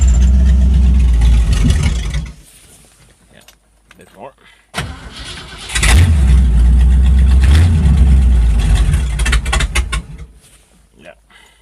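A Ford Fairlane with a straight-piped 302 V8 roars loudly through two long revving bursts separated by a brief drop to a quieter idle, with a voice speaking briefly between them.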